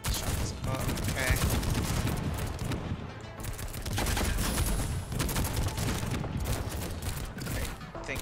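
Rapid overlapping gunfire bursts from the mobile strategy game Girls' Frontline, a dense continuous barrage of shots filling the whole stretch at steady loudness, with game effects layered throughout.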